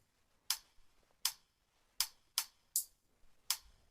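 Two layered hi-hats in a boom bap beat play alone as crisp, bright ticks in an uneven pattern, six hits over a few seconds, fairly quiet and dry.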